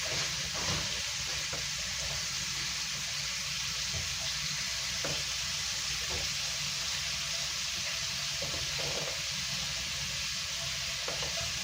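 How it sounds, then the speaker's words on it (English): Chicken sizzles steadily on a grill pan, a dense, even frying hiss that holds close and constant throughout, with faint clinks now and then. "Hearing that sizzle, I'll be turning it down here shortly."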